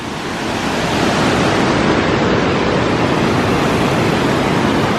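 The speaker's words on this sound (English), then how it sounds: "So that is a pretty good waterfall right there." Loud, constant rushing water roars without pause, a dense broadband wash like a nearby waterfall.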